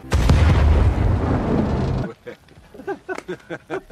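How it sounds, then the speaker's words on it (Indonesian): Grenades blowing up a building in an action film, a loud rumbling blast lasting about two seconds, followed by a voice speaking briefly afterward. "Chris dengan santainya mengajak Luo Feng memasang beberapa granat untuk menghilangkan bukti kekerasan dengan meledakkan gedung sebelum mereka pergi"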